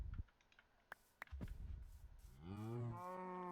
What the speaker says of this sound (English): I have 2 cows.